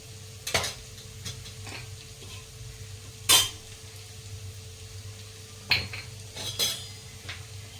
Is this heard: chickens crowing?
no